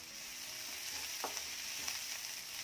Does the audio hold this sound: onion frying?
yes